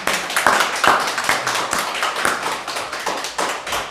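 A church congregation claps together in welcome for a member seated on the left who is undergoing chemotherapy, steady dense applause filling the room for several seconds, with no voices over it.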